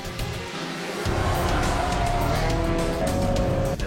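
Pure Stock division race cars roar around a short dirt-oval track at a race start, engines loud and close with tires squealing, the noise surging and holding steady throughout.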